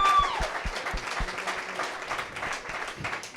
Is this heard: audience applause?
yes